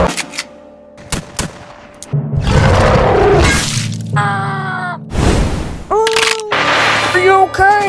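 Cartoon gunshots ring out in a fight between cowboys and dinosaurs: sharp cracks and bursts over loud crashes, roars and whistling effects, close and chaotic.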